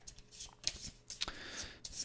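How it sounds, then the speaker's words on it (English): A deck of cards is shuffled for a solo tabletop board game, with a few crisp riffling bursts and soft slaps close up, no talking. "Shuffle these up."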